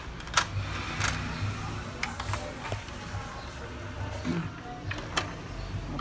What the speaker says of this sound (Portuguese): Ó, o CD já girou, já voltou a funcionar.